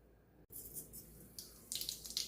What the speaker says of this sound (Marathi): डाळ आणि तांदूळ धुवून घेऊ